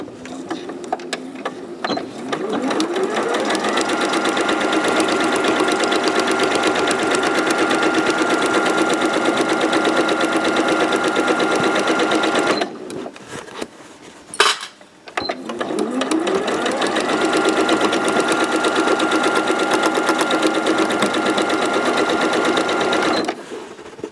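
Sewing machine topstitching 5 mm from the top edge of a tote bag, a loud fast steady stitching run, a brief pause with a click near the middle, then a second long run.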